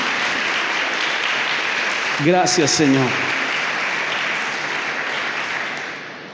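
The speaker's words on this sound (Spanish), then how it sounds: "Eso merece un aplauso al Señor." A church congregation claps continuously in steady, even applause across the hall, with a voice briefly speaking over it partway through before the clapping slowly fades.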